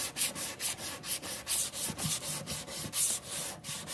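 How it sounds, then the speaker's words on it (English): Steady back-and-forth hand sanding on a metal cuff, a dry rhythmic rasp repeating about three times a second, close and fairly quiet. "I'm just going to sand back and forth, checking the metal as I go"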